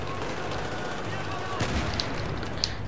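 Sustained blind gunfire in Battlefield 3, a dense steady roar of rapid shots with a few sharper cracks standing out; a voice talks briefly underneath.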